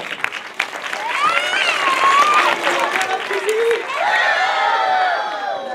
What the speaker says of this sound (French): On les applaudit de nouveau